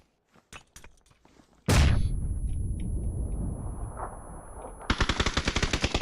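Automatic gunfire in a PUBG match: a few scattered shots, then a sudden loud sustained burst with rolling echo, ending in a rapid string of close, sharp shots.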